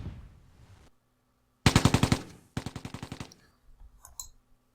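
Two rapid bursts of machine-gun fire from the Tigers on the Hunt video game, a string of about eight loud, sharp shots followed by a second burst of similar length, then a few fainter clicks.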